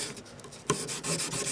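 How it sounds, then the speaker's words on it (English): 1000 grit sandpaper rubbing the small frets of a Japanese hollow body guitar, a close, steady scratchy rasp in short strokes with one sharper scrape partway through. "I've got some 1000 grit sandpaper, and I'm just going to take the top layer."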